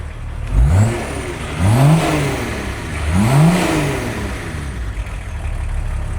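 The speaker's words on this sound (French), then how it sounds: "T'entends pas que le bruit du diesel, t'entends le 6 cylindres quand même." A six-cylinder diesel car engine revs hard several times in quick succession, deep rising surges with a gruff diesel tone, close by and loud, settling between blips.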